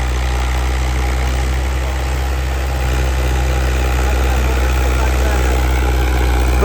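A New Holland 850 tractor engine idles with a steady, loud low throb at a crowded rural gathering, running continuously while voices talk over it.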